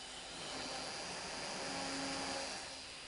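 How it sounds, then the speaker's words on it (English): A small homemade mini vacuum cleaner motor whirs with a steady high-pitched hum and rushing air, swelling slightly then holding constant, close up. "when I turn this on, yeah, it's running and it's blowing from this way"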